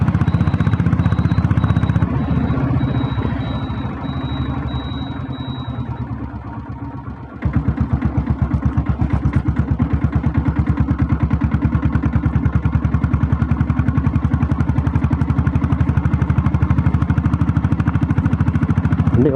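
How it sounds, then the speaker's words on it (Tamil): Close by, a Royal Enfield diesel Bullet motorcycle engine idles with a loud, evenly spaced thumping beat, drops briefly into a softer note, then comes back to its steady, clear, chugging rhythm for the rest of the run. "வண்டி பீட்டு தெளிவாக இருக்குது, நல்லா நீட்டாக இருக்குது."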